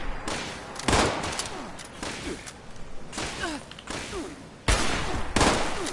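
Gunfire during Fallout 76 play, sharp loud shots in irregular bursts, some rapid clusters and heavy blasts, with scattered faint voices in between.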